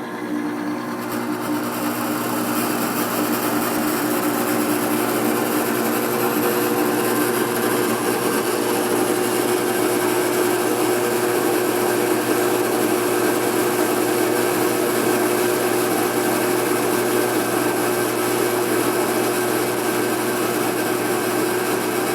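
An electric motor runs under applied pressure with a continuous steady whirring hum and a high tonal whine, unchanging and fairly loud throughout.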